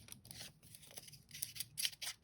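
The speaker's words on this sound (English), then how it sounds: "And I rough up the edges." Scissors rough up the edges of thin copy paper in quick, close snips and scrapes, a fast irregular run of crisp cuts that grows busier toward the end.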